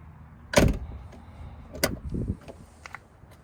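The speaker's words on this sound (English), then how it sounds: "I like the sound of the door." Door of a 1991 Nissan Laurel Medalist Twin Cam sedan: a sharp close thunk, then a second solid latch click about a second later, near and clear with no talk.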